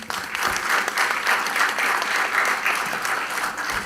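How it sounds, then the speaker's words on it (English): An audience at an HR conclave session claps continuously in steady, dense applause for about four seconds, close and fairly loud, with no speech over it. "Give yourselves a big round of applause."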